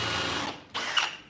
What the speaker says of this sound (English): I'm just gonna real quickly drill some holes here.